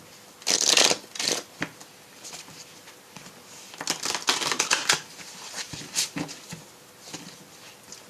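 Oracle cards from the Lumière de Fée deck being shuffled by hand, bursts of crisp riffling and flicking that come and go in short clusters with quiet gaps between them.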